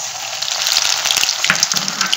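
Maggi egg cutlet balls sizzle in hot oil, giving a steady, close crackling hiss with small popping bursts and no voices.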